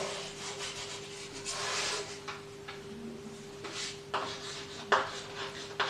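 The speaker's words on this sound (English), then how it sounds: "I am rubbing this numbering" A board being erased by hand to remove written numbering, heard as soft rubbing swipes with a few sharper knocks near the end over a steady background hum, close and alone with no talk.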